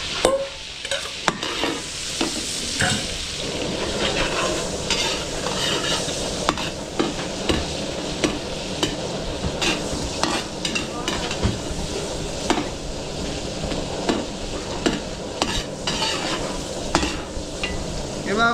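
Garlic frying in a mix of butter and Star margarine, a steady close sizzle with frequent stirring scrapes and occasional utensil clinks on the pan throughout.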